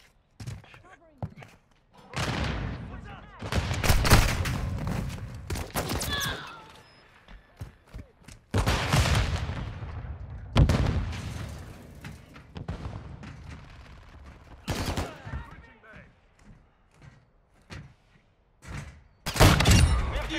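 Explosive grenade blasts and bursts of gunfire in a Call of Duty deathmatch, loud irregular bangs and thuds spread across the stretch with quieter gaps between, with players' voices talking over the action.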